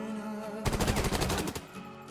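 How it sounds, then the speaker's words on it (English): A rapid burst of SMG fire in the video game Wasteland 3, a dense rattle of shots lasting about a second against quiet ambient game sound. "I guess Quan can run up with an SMG and finish this off"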